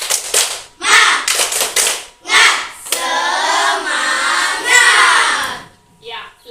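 A school class does tepuk semangat spirit clapping, bursts of rhythmic group claps in quick sets alternating with children chanting and shouting together, loud and close.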